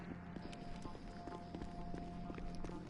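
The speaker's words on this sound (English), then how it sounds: "You gotta watch running though, because they can hear your footsteps." Quick running footsteps in a video game, a steady patter of steps over a continuous mechanical hum and ambient game noise, moderately close, with no talking.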